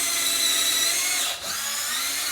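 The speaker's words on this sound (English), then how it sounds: "drill our first hole, and we pre-drill because we don't want to split the wood" Power drill pre-drilling a pilot hole in wood for mounting pegboard, a steady high whine running close and loud, with a brief dip partway through before it carries on.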